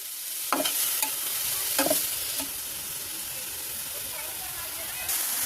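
Dried shrimp frying in oil with a pinch of salt, a steady hissing sizzle with a few stirring scrapes and clicks of a spatula in the pan.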